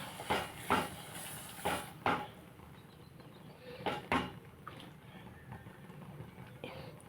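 A spoon scrapes and knocks against a cooking pot as broken rice (rice nooka) is stirred, giving irregular clinks and scrapes at moderate volume.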